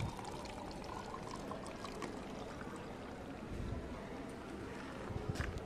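Plain room-temperature water poured and sipped on a quiet college campus at UC College, Aluva, a faint, steady rushing wash that runs the whole stretch with no talk.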